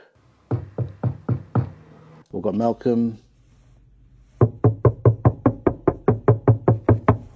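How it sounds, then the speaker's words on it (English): Door knocks recorded for a soundscape come as a set of four even raps, then a brief spoken line, then a long series of about a dozen firm, evenly spaced knocks, loud and close. "to utilize door knocks from our communities to kind of set the tone, set the mood for the soundscape"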